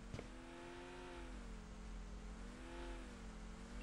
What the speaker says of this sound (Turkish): Arabayla geldiler ne oğlum.